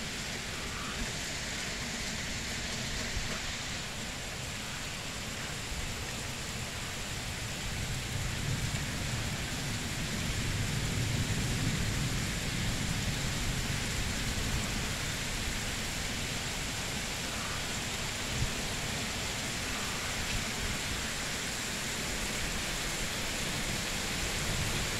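Steady rain pours through a nighttime thunderstorm, a dense even hiss with faint low rumbles of thunder underneath, no voices.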